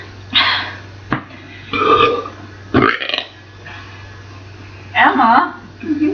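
Loud belches in a burping contest come in several bursts, some drawn out, with gaps between them and people talking in between.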